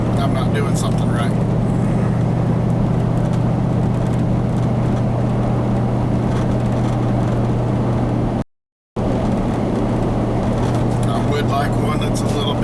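An old truck drives along, its engine and road noise forming a steady droning rumble with a strong low hum, while a person talks over it; the sound cuts out briefly near the end.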